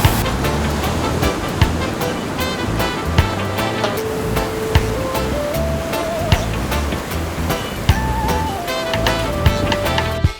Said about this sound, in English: These waves are huge today.